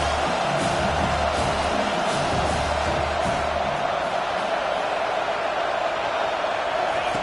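A football stadium crowd roars for the defense on a big third down against Oklahoma, a steady wash of cheering and whooping that holds loud from start to finish.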